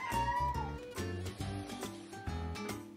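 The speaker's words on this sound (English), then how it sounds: "My cat is very annoying." A cat meowing insistently indoors, wanting to be let out of the house, a string of loud, drawn-out cries close by with no talking.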